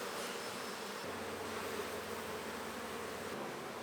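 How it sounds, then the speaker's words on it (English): Honeybees swarming around an open-air hive with many workers, a steady low buzzing hum that stays even and fairly quiet throughout, with no voices. "There's too many bees."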